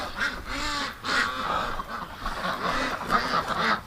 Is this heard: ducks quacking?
yes